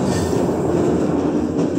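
Argo Parahyangan passenger train running steadily at close range, a continuous low rumble of wheels and carriage with faint rail clatter, heard from the rear as it leaves Sasaksaan tunnel.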